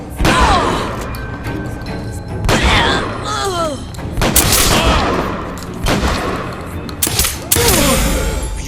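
Gunfire in the BioShock Infinite: Burial at Sea game, with repeated loud bursts and crashes across the whole stretch and shouted voices between shots.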